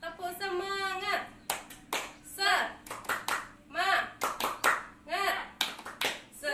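Rhythmic group clapping in short patterned bursts during a clap chant at a training session, the claps close and sharp and alternating with voices chanting along.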